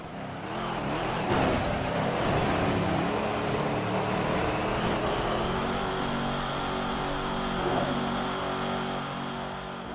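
Racing cars roaring in Midnight Club 3 on PlayStation 2, a continuous loud engine drone with revving swells and passing rushes, steady throughout.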